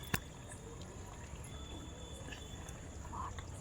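Water poured into a cooking pot for egg bagara rice, a soft steady pouring and trickle with a sharp clink at the start, fairly quiet and unbroken.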